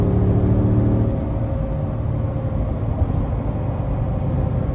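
A 2020 Ford F-150 XLT with a 5.0 V8 and SCA Performance Black Widow package accelerating hard, heard from the cabin as a steady engine roar and whir with road noise, no talk.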